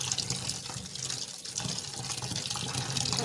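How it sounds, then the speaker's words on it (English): Omena, small fish for a Kenyan recipe, rinsed under cold tap water in a kitchen sink: a steady, close rush of running water with splashing, with no speech. "So this is me rinsing with cold water."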